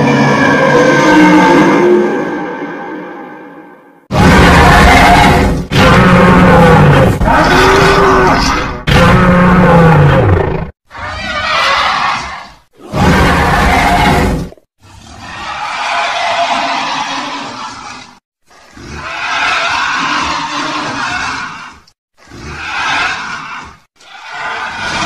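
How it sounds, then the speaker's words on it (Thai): Roars of the monstrous reptilian creature SCP-682 come as about ten loud, harsh bursts. Some bellow with a sweeping pitch and others rasp or growl, each cut off by short silences. "ผมจะเปิดซาวเสียงหรือเสียงของ SCP-682 ให้ทุกท่านฟัง"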